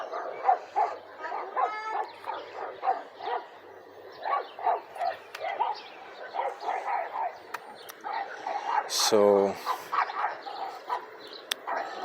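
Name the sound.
dog barking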